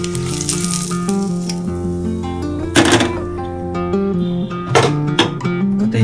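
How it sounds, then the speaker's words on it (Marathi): Eggs being fried on all sides in a kadhai with oil for an egg masala, with a steady sizzle, occasional clunks of a utensil against the pan, and a faint musical tone in the background. "अंड्यांना सर्व बाजूने आपल्याला फ्राय करून घ्यायचं आहे."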